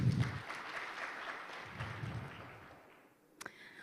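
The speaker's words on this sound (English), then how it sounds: "A round of applause for Moses again." Audience applause for Moses, a speaker at an innovation pitch day, a fairly faint, diffuse patter that thins out over a few seconds before a couple of sharp taps at the end.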